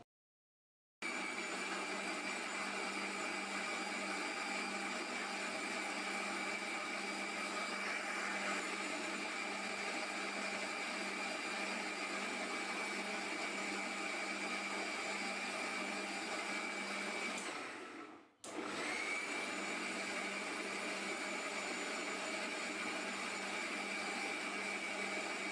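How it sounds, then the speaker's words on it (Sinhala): A blender whirs loudly and steadily as it mixes Marie biscuits, milk, sugar, vanilla and salt for a caramel pudding. It starts after a second of silence, cuts out briefly and then resumes. "දැන් අපි මේ ටික හොඳට බ්ලෙන්ඩර් කරගමු"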